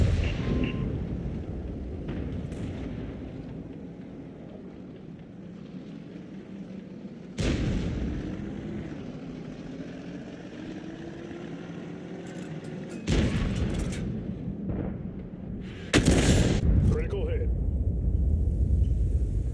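Tank cannon fire from an SPG in World of Tanks, heard as a few heavy booms at separate moments over a steady rumbling battle din, with a voice talking through much of it.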